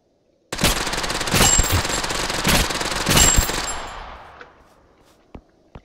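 Automatic gunfire in the video game Totally Accurate Battlegrounds sounds as a loud, dense rapid-fire burst lasting several seconds. It is punctuated by heavier shots, fades into a decaying tail and ends with two separate distant pops.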